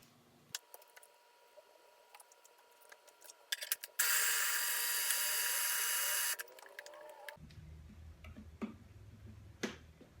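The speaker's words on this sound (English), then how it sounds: "You really do need a high-speed blender or food processor in order to get the sunflower seeds ground down to a paste." High-speed blender grinding sunflower seeds into a paste with garlic for Mexican kale chips, a loud steady whir lasting about two seconds, framed by quieter clicks and handling noises.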